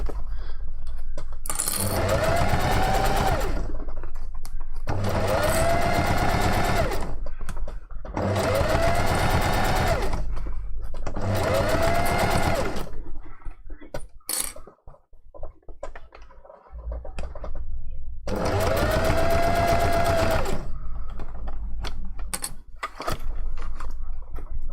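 A sewing machine back stitching the seams of a fursuit fox tail runs in four or five sustained bursts of whirring stitches, each a few seconds long, separated by short pauses with faint handling clicks, close and fairly loud with no talk.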